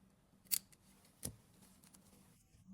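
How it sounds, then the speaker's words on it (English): Scissors snip through thread while a leather bucket bag's handles are hand-sewn: two sharp, quiet cuts about a second apart, close up in a hushed room. "Snip the thread with scissors."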